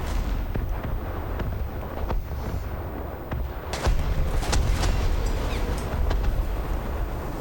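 A naval gun salvo in the War Thunder game, heavy booming blasts and rumbling detonations over a constant low roar of battle and sea, with several sharper reports standing out midway.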